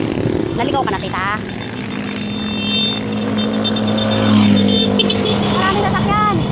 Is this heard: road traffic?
yes